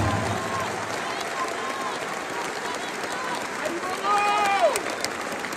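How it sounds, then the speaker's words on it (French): A large crowd applauds in a sustained wash of clapping, with a few whistles and cheers rising near the end. "je vous demande de vous applaudir avec la plus grande puissance"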